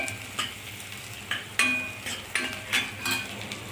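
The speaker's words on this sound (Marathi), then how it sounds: "हिरवी मिरची पण छान परतून घेणे, खमंग परतून घेणे" Green chillies frying with browned onion in a pan for rava sweet corn upma, a soft steady sizzle broken by several clinks and scrapes of a spoon stirring, close and moderately quiet, with no one talking.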